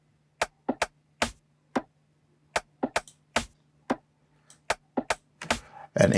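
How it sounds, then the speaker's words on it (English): Crisp rim shot percussion in an Amapiano track made in FL Studio, playing as a sparse, irregular string of dry clicks against a faint low hum, with a denser burst at the end. "And then I added some percussions, mainly rim shots, basically."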